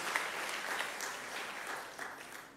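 Steady applause from a Pentecostal church congregation in Jakarta, a dense, continuous wash of clapping lasting a couple of seconds and fading slightly at the end, with no talking.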